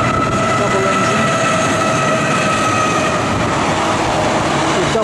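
A double-engine, double-stacked freight train rumbles past close by near Adelaide, a loud continuous roar of wheels and rail noise with faint metallic squeals.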